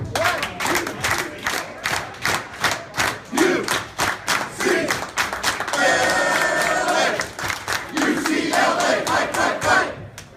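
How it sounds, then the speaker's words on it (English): A crowd at a UCLA Bruins signing day does a rousing ape clap, with loud, evenly spaced unison claps and shouts that build into sustained cheering. Some rhythmic claps return near the end. "Rousing ape clap now"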